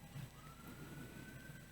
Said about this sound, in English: Oh, there's a siren. I hear a siren.